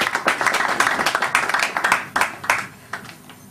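A church congregation applauds a speaker who is stepping forward, with steady, lively clapping from many hands filling the room for several seconds before it thins out into a few last scattered claps.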